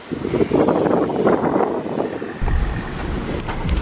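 Gusty outdoor wind battering the microphone, a loud irregular low rumble that swells and eases in gusts, with a heavier thump partway through and no speech.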